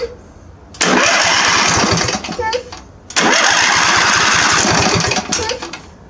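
A Murray riding mower's engine cranks and fires twice after a starter repair, each a loud, close burst of rough mechanical roar lasting a couple of seconds, with a voice speaking between and over the attempts.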